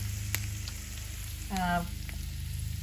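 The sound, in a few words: sweet potatoes frying in butter in pan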